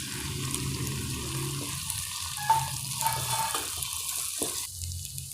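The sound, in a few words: onions and tomatoes sautéing in a pan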